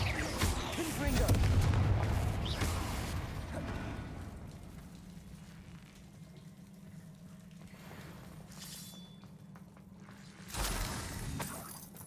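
Confringo fire-spell blasts in the video game Hogwarts Legacy: a heavy booming burst opens, a low rumble hangs on, and another blast hits near the end.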